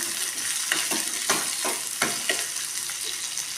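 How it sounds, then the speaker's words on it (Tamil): Green chillies and onion sizzling in hot oil while being stirred, a steady close crackle with repeated scraping strokes of the spoon against the pan. "இது நல்லா கிளறி விட்டுக்கலாம்."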